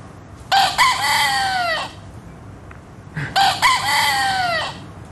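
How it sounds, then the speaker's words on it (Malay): A rooster crows loudly twice, each long cock-a-doodle-doo call separated by a short pause, over faint background noise. "Adakah ini bunyi ayam"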